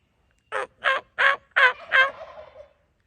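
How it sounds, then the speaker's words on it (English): Wild turkeys, young jakes, gobbling outdoors: five loud, rapid, rattling calls in a quick series, with the last one trailing off, and no talk. "those turkeys are gobbling"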